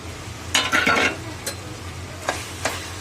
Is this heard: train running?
no